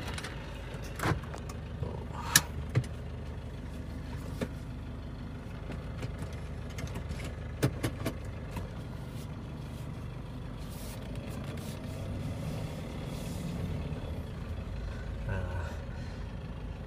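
A 2010 Toyota Kijang Innova diesel with automatic transmission idles with a steady, rough rumble throughout, with a few clicks and light knocks and people talking over it.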